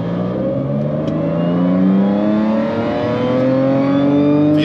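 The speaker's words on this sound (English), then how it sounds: "I'm in third gear around 2100 RPM, manual mode, full foot to the floor without pushing through the kickdown" An Audi B8 S4 engine with a newly installed high-pressure fuel pump pulls at full throttle in third gear from around 2100 RPM in manual mode, a loud continuous rising drone that climbs steadily in pitch, heard from inside without speech.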